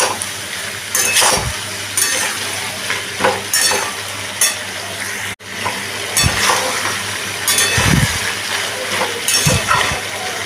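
Papaya and potato curry being sautéed in a pan with a little turmeric, a steady close sizzle broken by repeated stirring scrapes and occasional clinks of utensil on metal.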